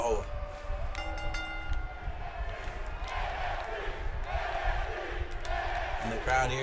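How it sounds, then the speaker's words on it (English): A video game arena crowd in WWE 2K19 chants NXT in a rhythmic roar, a steady loud wash of voices with commentary talking over it. "And the crowd here chanting NXT"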